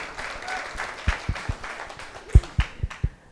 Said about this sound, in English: a big round of applause for Neutral Ground.